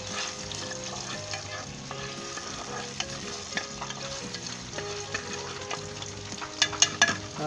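Steady sizzling of garlic frying in hot ghee until light golden brown, with occasional stirring clinks and scrapes near the end.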